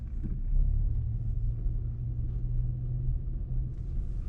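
An automatic car on a residential road driven by a learner, a steady low engine rumble with a mild swell as the gas is pressed, continuous and close with no talk.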